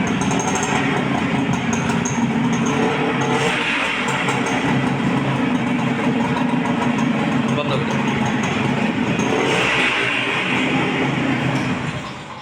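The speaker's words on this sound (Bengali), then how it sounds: "এবার আমরা পরবর্তীতে যে সিলভার এডিশন বাইকটা আছে এই বাইকের সাউন্ডটা আপনাদেরকে দেখাবো" An antique silver edition motorcycle engine runs steadily, giving a loud, continuous idling rumble that holds unbroken for the whole stretch before easing slightly at the end.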